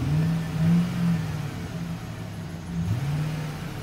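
A 2007 Chevrolet Silverado 1500 pickup with 94,683 miles idles smoothly, a steady low engine hum with a slight swell near the start and no other sounds.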